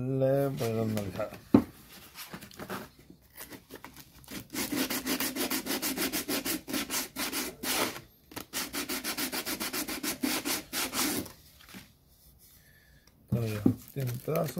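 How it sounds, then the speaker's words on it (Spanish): Rhythmic scraping strokes of sandpaper rubbing against wood, fast and close, in long bursts with brief pauses; a voice speaks briefly at the start and end. "le voy a dar una lijada."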